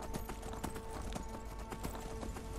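Horse hooves clip-clop in a steady, quick rhythm while riding in the video game Skyrim, close and fairly loud, with a constant ambient game soundscape underneath.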